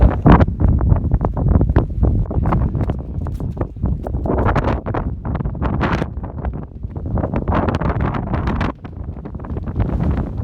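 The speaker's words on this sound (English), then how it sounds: "At some point that wind's going to hit us." Strong wind on a mountain peak during a trail run roars and buffets the microphone in loud, irregular gusts. Rhythmic thumps run underneath, and there is no speech.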